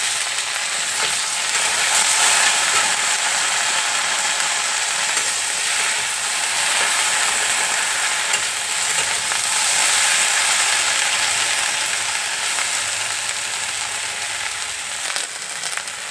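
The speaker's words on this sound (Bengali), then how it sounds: "আলুটা আমার ভাজা হয়ে গেছে, এখন ভেন্ডিগুলো দিয়ে দিচ্ছি।" Okra tossed into a pan of already fried potatoes sizzles steadily and fairly loud throughout, a dense continuous frying hiss with faint scraping and stirring clicks, no voices.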